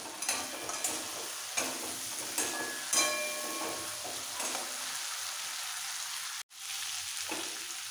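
A fried hilsa fish head is added to moong lentils in a hot pan, with a steady soft sizzle punctuated by a few stirring clatters and one sharp break near the end.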